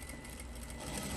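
A sewing machine runs steadily while stretch-stitching pajama shorts, a continuous low mechanical hum with a rapid needle pulse, fairly quiet and uninterrupted.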